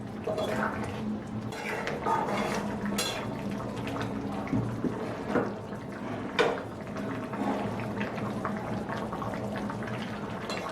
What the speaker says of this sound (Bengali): সব কিছু ভালো করে নাড়াচাড়া করে মিশিয়ে দিচ্ছি।